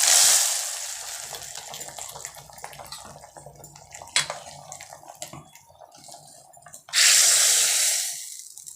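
Mustard seeds, urad dal, dried red chillies and a sprig of curry leaves sizzle in hot oil for a sambar tempering, a crackling hiss that swells into a loud, bright burst near the end as the tempering hits the pot.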